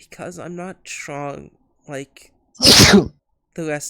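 A single sharp sneeze erupts between lines of spoken dialogue, loud and close, a breathy burst lasting under half a second, with talking voices before and after it.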